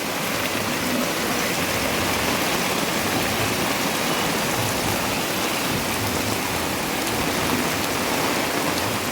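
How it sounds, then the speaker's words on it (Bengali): Heavy rain pours down in a dense, unbroken roar that stays loud and even throughout, with no voices. "আর প্রচণ্ড বৃষ্টি দেখুন"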